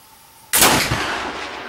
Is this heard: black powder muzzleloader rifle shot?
yes